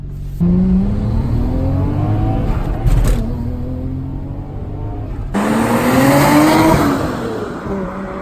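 A Nissan Skyline GT-R R34 V-Spec II Nür engine revs and pulls hard from inside the car, rising through the gears with a short lift between shifts, loud and steady with road noise beneath.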